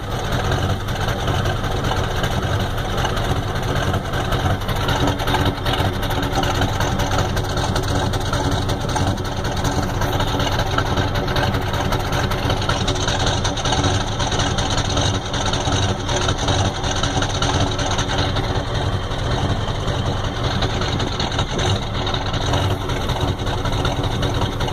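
A 1993 Ford F-250 with a 7.3L IDI diesel engine runs rough with new injectors, glow plugs and return lines, giving a loud, steady, clattering low rumble that continues unbroken throughout with no voices.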